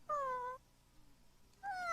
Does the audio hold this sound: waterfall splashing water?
no